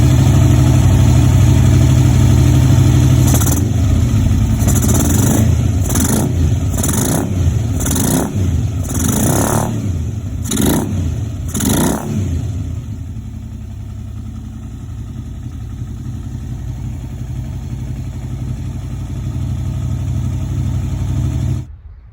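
A sport bike abandoned for ten years runs roughly on a badly rebuilt carburetor, its engine idling and blipping in a run of uneven revs, then settling into a steady, ragged idle, close and loud with no talk.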